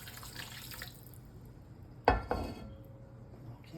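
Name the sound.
glass of water poured onto browning pork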